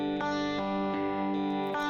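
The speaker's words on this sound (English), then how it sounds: "it's same guitar, but now no distortion, totally clean, and using that same bridge and middle." Clean electric guitar with no distortion, played through the bridge and middle pickups, ringing sustained chords with a few soft re-strikes, steady and fairly close throughout.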